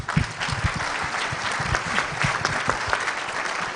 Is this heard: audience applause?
yes